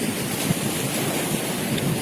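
Sea surf washes onto the shore on a windy coast, a continuous broadband roar with wind buffeting the microphone, close and steady, no voices.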